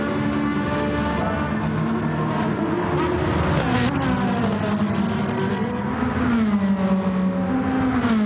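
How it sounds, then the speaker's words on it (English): Ferrari race car engines in a racing video game, several loud high-revving engines rising and falling together in pitch, shifting gears continuously in a dense close roar. "But then Ferraris, the noise of them."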